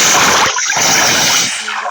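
A loud, close burst of water pours and splashes, briefly breaking off midway before resuming and fading.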